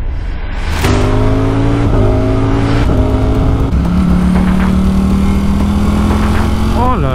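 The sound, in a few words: Ducati Streetfighter V4 motorcycle engine running loudly to warm up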